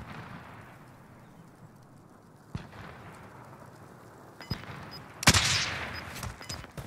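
Distant sporadic gunfire in Call of Duty: Modern Warfare, a few isolated sharp shots over quiet ambience, then a louder blast with a crackling tail and faint pinging.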